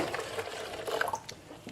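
Water dripping through a soldiers' filter in the field, a run of small trickling drips and splashes over a soft, steady background.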